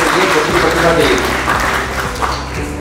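Loud applause from an audience at the Achievers Award 2024 ceremony honouring students fills the room as a dense, steady wash for about three seconds, with voices mixed in underneath.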